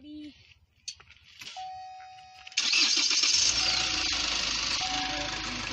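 A Chevy Colorado diesel truck engine cranks and catches after some faint knocks and a brief tone, then settles into a loud, steady, close idle.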